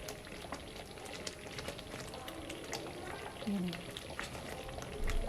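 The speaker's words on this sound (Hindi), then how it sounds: "अच्छा, इसमें बॉयल आ गया है, इसको ज़रा सा गाढ़ा करना है।" A black chickpea chaat mixture boils and thickens in a pot, a faint, busy bubbling and simmer with a soft voice murmuring in the background.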